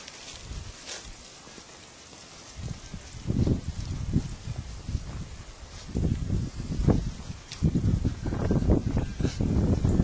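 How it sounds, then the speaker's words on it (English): Wind gusts rustle and sweep leaves along a ranch road, rising in louder bursts after a quiet start and crackling close to the microphone. "the wind is blowing some leaves there."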